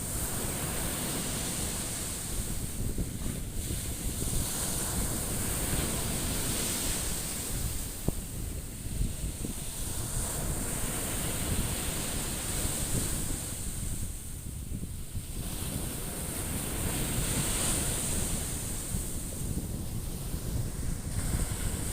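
Broad, steady wash of sea waves on a shore with wind buffeting the microphone, a continuous roar with slow swells and no clear individual breakers, recorded on a trip to a Thai seaside.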